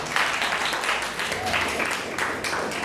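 Congregation clapping during a church service, a steady wash of applause that keeps swelling and easing across the whole moment, with a faint hint of voices mixed underneath.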